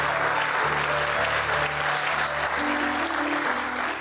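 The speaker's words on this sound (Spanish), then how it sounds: "Dele un aplauso al Señor." A church congregation applauds during a Spanish Bible broadcast, a steady roar of clapping with a low sustained tone running beneath it throughout.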